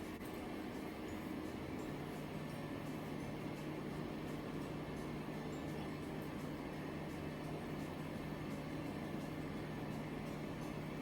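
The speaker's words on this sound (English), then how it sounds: "we're going to put it in the microwave for 30 seconds" Steady microwave oven hum with a constant low tone runs evenly and fairly loud throughout while a plate of carne asada taco filling heats inside, with no talking.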